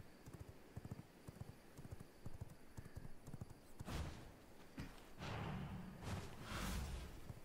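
Horse hooves clip-clop in a steady, brisk rhythm in the video game V Rising, close and clear, followed by heavier thuds and swishing movement.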